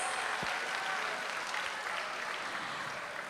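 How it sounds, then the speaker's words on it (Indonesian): A large audience at the CIFP 2025 conference claps steadily for the FPCI chapters, a dense, even applause that is heard from a distance and holds through to the end. "Berikan tepuk tangannya untuk FPCI chapters."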